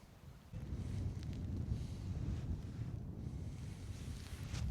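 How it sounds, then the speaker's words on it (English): Strong wind blows across an exposed hilltop above Alcock Tarn in the Lake District, buffeting the microphone with a steady low rumble and gusty roar and no voices. "it is quite windy up there"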